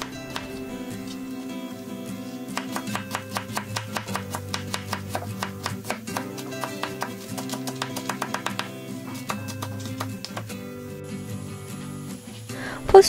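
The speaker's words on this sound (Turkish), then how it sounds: "Bir tane soğanı ince yemeklik doğrayalım." Knife chopping an onion finely on a board, a rapid run of crisp, evenly spaced taps with brief pauses, close and fairly quiet in a kitchen.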